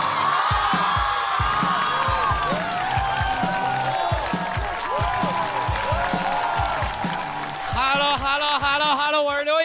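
Studio audience applauds and cheers as comedian Liu Yang takes the stage on a comedy show. Steady, dense clapping and whoops fill the whole stretch, with music-like tones and voices mixed in and a brighter burst near the end.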